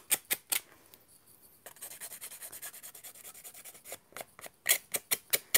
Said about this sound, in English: Here we go, sandpaper.